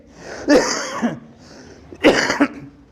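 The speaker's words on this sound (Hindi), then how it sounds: "आज खांसी आ रही, थोड़ा इन्वायरमेंट का है" Two separate coughs, about a second and a half apart, close and fairly loud, with quiet room noise between them.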